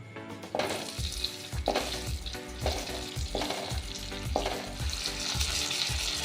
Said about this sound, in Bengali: ছোট ছোট পেঁয়াজ আর বিনস আর আলু এগুলো খুব হালকা ভেজে নেব